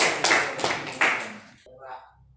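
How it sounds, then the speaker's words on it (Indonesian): A classroom of students applauding a group, a short burst of clapping that fades over about a second and a half before the room goes quiet, with a voice speaking over the claps. "Tepuk tangan dulu untuk kelompok 1."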